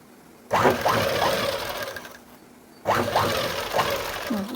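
Sewing machine stitching a triple-folded cloth edge, two steady whirring runs of a few seconds each with a brief quieter pause between, close and loud, no talking.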